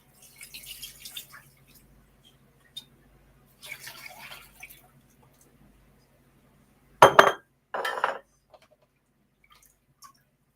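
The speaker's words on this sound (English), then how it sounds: "So I'm going to strain my tea because the leaves are still" Herbal tea being strained from a glass storage jar: a couple of short, close clinks and splashy pours stand out after quieter stretches of faint trickling and rustle, with no talking.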